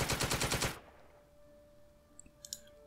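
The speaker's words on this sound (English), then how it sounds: "With the machine gun, you can do the same." A machine gun in the World War II strategy game Second Front fires a short rapid burst of about seven evenly spaced shots, then falls away to a quiet hum with a few faint clicks.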